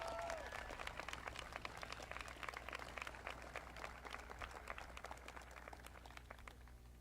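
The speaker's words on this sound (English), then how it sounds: "Let's give them a round of applause for joining us today." Audience applause at a Greeley West High School graduation ceremony, a steady, fairly faint wash of many hands clapping that carries on throughout.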